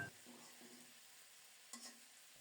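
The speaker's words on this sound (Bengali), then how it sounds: "মাছও কিছুটা ভাজা ভাজা হয়ে গেছে" Faint, quiet sizzling of catla fish and yardlong beans frying in a pan, with a few soft stirring scrapes.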